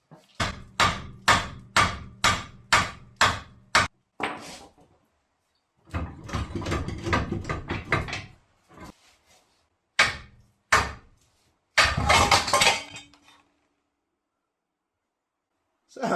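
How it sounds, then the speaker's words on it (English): Sharp metallic hammer blows on a bent car rear beam strike in a quick regular series, then a pause, more clustered banging, and a few scattered heavy hits with rattling. "it just needs a little bit of a hammer to drop it down"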